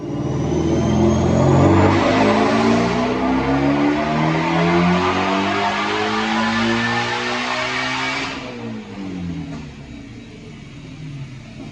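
A Whipple-supercharged 2017 Ford GT350 on a chassis dyno roars loudly with a rising engine note through a full-throttle pull, then drops off sharply near the end as it lets off, with no talk.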